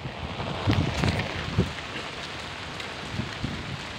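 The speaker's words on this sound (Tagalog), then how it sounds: "grabe ka ulan, Ria." Heavy rain pours down in Singapore in a dense, continuous hiss, with occasional louder spatters of drops landing close by.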